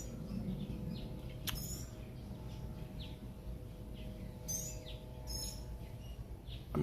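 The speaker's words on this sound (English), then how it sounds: "you could just sit here all day and listen to these birds" Birds chirp and call outdoors at a nature reserve, scattered bright twitters rising over a steady background hiss, with a couple of sharper calls standing out near the middle and end.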